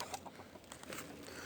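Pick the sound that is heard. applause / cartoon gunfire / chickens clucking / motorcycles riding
chickens clucking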